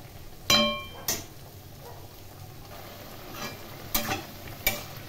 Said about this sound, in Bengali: ফুলকপি আলু ও মশলা খুব ভালো করে কষিয়ে নিচ্ছি।